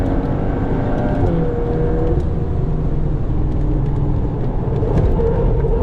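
An MK8 VW Golf R on a race track, its engine droning steadily and loudly throughout with rising and falling pitch as the hatchback powers through a corner on 200-treadwear tyres.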